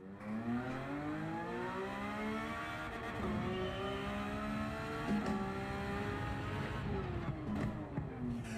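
A Porsche race car in a racing video game revs steadily, its engine tone rising and falling through gear changes with a faint tire squeal, and it stays loud and continuous throughout.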